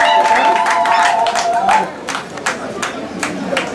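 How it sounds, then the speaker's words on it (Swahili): Wedding guests applauding and chattering at a celebration, a busy crowd of claps under a steady murmur of voices, fading somewhat toward the end. "Tuongeze makofi mazuri."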